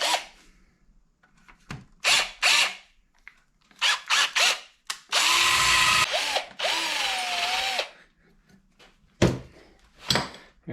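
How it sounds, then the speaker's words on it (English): Power drill bursts boring holes in a Banshee carburetor for idle screws, a long steady whine with brief stops and a pitch dip, surrounded by short clanks and handling knocks; no talk. "So we will drill these up."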